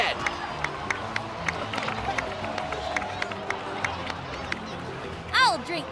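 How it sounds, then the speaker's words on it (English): Crowd in a Genshin Impact scene clapping and cheering at moderate distance, a sustained patter of applause with scattered sharp claps and background babble, ending in a brief rising whistle-like flourish. "please give another round of applause for them."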